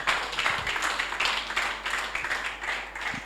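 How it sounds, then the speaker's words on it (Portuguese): A church congregation claps steadily in praise during a worship service, a continuous, moderately faint patter of many hands with no voices over it. "Palmas para Jesus"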